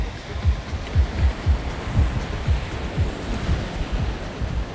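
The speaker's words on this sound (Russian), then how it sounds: "Дэн, сними, блин, эти волны." Sea waves roll onto a beach on the French Riviera, breaking in a steady rhythm of surging washes about every quarter second to half second, loud and close, with wind noise over the microphone.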